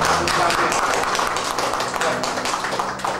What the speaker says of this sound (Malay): Bagi tepukan pada Profesor dan Mr.